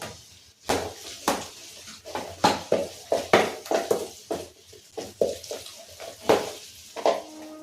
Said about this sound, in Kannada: ಬೇಳೆ ಎಲ್ಲ ನಾನು ಸ್ನ್ಯಾಶ್ ಮಾಡ್ತೀನಿ. ಇದನ್ನು ಹಿಂಗೆ ಮಸ್ಕೊಂಬಿಟ್ರೆ ಚೆನ್ನಾಗಿರುತ್ತೆ